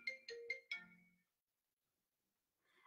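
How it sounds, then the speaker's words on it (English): A mobile phone rings with a bright electronic ringtone, four quick melodic notes in a short burst, then falls silent before a faint trace of sound returns near the end. "that's my phone."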